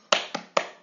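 Three sharp, close hand claps or taps in quick rhythmic succession, part of a class's 'tepuk ekonomi' clapping routine, with no talking.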